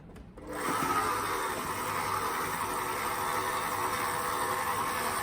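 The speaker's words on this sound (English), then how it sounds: "And now we're gonna beat this for 2 to 3 minutes." An electric mixer beats Betty Crocker rock cake batter in a bowl, starting abruptly and then holding a loud, steady whirring drone close by with no talking.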